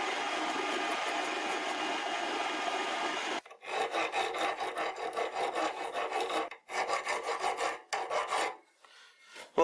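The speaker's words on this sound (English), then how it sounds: "now I'll file down the edges" A hand file works the edges of a steel part for a lathe tailstock locking lever, close rasping strokes first continuous, then in distinct back-and-forth bursts with short pauses between.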